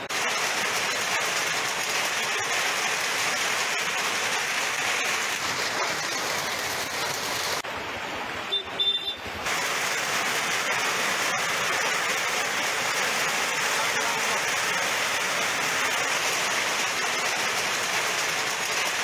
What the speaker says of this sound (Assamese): এতিয়া এই বৰষুণ আহি পৰিছে